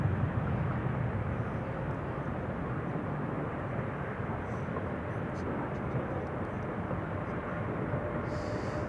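A KLM Boeing 777-300 arriving at Amsterdam Schiphol after a long flight from Panama City, a steady broad jet engine roar held loud and constant, sounding fairly close throughout.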